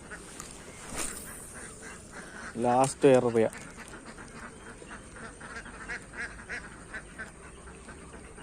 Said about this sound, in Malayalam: ഓ താറാവ് ഇറങ്ങി